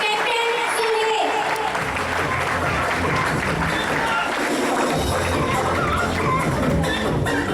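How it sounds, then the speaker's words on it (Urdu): Hall audience at a certificate distribution ceremony claps continuously to welcome a speaker to the stage, a full, steady roar of hands with murmuring and shuffling underneath, lasting several seconds. "آپ کی بھرپور تالیوں میں تشریف لاتے ہیں کیپٹن سہیل"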